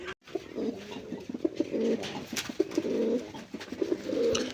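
A pair of Indian Bombay pigeons coo close by in repeated throaty bursts, each rolling call rising and fading over a few seconds with brief gaps between them, alone without any talking.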